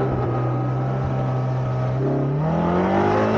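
A Morgan Aero 8 GT sports car with a BMW V8 accelerates hard from about 60, its engine note climbing steadily in pitch, loud and close, a continuous rising drone with no talk over it.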